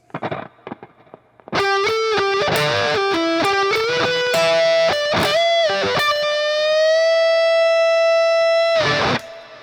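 Distorted electric guitar plays the closing phrase of a solo, with a fast lick of quick picked notes leading into a long sustained bend that rings out before a final strum, loud and alone.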